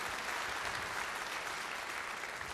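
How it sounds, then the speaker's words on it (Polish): Concert audience applause at a live show, a thick continuous wash of many hands clapping at steady loudness with no pause. "brawa jak najbardziej wskazane"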